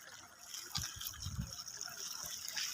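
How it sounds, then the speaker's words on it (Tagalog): Steam and boiling geothermal water hissing and gushing from the ground at the Geysir Center near Reykjavik, Iceland, a steady broad rush with low bubbling surges, moderately near and continuous, with a voice faintly in the background. "mga steam water yan, oh. Kumukulong tubig sa ilalim ng galing sa ilalim ng lupa yan."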